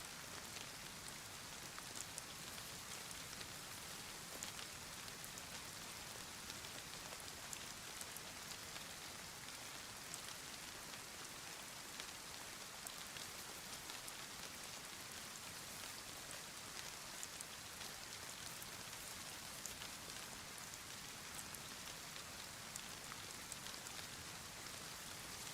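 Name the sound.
rain in video game DayZ, Chernarus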